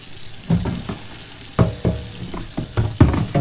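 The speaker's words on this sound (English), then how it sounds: "So we're going to pour the whole show right into here and rinse them off real good." Water splashes and pours over tumbled Arizona fire agate stones mixed with ivory soap and beads, rinsed in a container with irregular sloshing bursts and clattering, close and lively.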